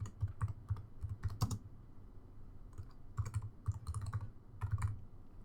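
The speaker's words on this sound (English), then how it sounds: "and then we'll type in a module name." Quick bursts of keystrokes clatter on a computer keyboard, with short pauses between flurries, close and moderately loud.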